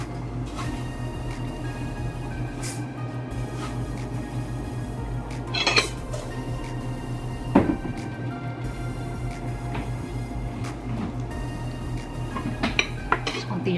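Ginataang langka, jackfruit in coconut milk, simmering in a pot while a utensil stirs it, with occasional metallic clinks and scrapes against the pot over a steady background hum, no talk.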